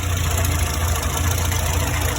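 A warmed-up Morris Minor engine with an SU carburetor and its air filter housing removed idles steadily close by, a constant mid-low rumble with a faint even pulse and no talk.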